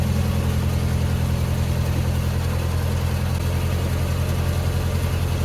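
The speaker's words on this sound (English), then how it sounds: "It sounds like it might be an alternator belt from my engine." A steady boat engine drone with a low rhythmic hum and a faint whirring whine, apparently from the alternator belt, running through it, continuous and unchanging throughout.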